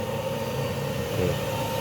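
A constant, even mechanical whir and hum of an electric 24V air conditioner running inside a Ventury van, blowing at a steady level with no pauses.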